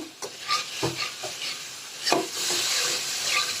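Dal being sautéed in a pan while preparing an iftar meal: a steady sizzle and hiss broken by scraping stirs of a spatula, close and moderately loud with no talking.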